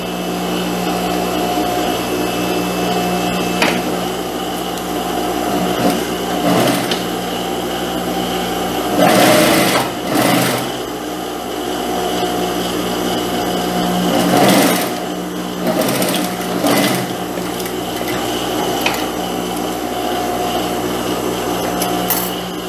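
A sewing machine runs a long, steady stitching pass along a skirt seam, loud and close, with a continuous motor whir and brief pauses or speed changes partway through, with no talking.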